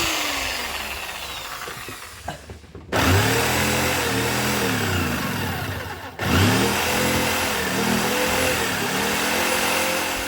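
A power drill whirs loudly and steadily, cutting out briefly twice and then spinning back up, with a grinding tone as it bores through thick, hard plastic.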